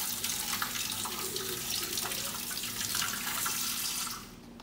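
Cold water runs from a tap into a sink in a steady, hissing splash that continues for several seconds and then tapers off as the flow is turned down.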